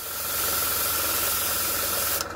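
An airbrush sprays acrylic model paint thinned with lacquer in a steady, close, continuous hiss that holds level for about two seconds before cutting off abruptly.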